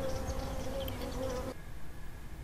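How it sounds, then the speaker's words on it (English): A bee buzzing steadily close by, a continuous droning hum that holds for about a second and a half and then drops away to a fainter background hiss. "it's buzzing sound of the bee"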